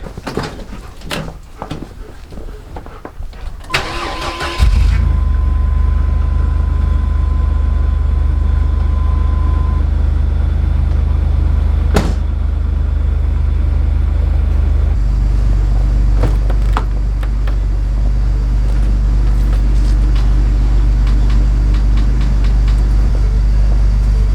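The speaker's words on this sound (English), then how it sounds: "I'm gonna start the car and the van, just because it's been so cold the last few days." A car engine started after several days of cold weather fires up after some rustling, then settles into a loud, steady low idle rumble that runs on without voices.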